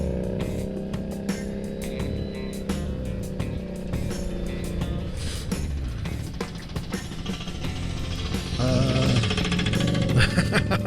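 Construction equipment working nearby, heard from a roadside on an electric motorcycle ride: a continuous loud mechanical rattle and rumble that stays steady throughout and grows slightly heavier near the end.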